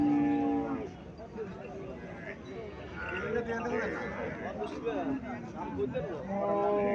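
Cows, including a local cow and a Sahiwal calf, moo in long, low calls at the start and again near the end, with people talking around them at a busy outdoor cattle fair in Comilla.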